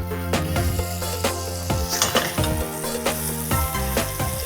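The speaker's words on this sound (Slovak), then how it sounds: "Panvicu máme poriadne rozohrianú. Pridáme pár kvapiek olivového oleja a rovno položíme stejky." Beef tenderloin steaks sizzle in a well-heated pan with a few drops of olive oil, a loud close hiss with repeated clinks and scrapes of cookware, no voices.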